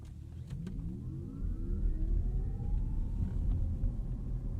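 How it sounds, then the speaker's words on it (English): Electric motor of a 2021 Audi e-tron Sportback whirring as the car slows, a rising and falling tonal whine layered over low road rumble, steady and close inside the cabin. "you can hear all that whirring and just low frequencies as you come to a stop"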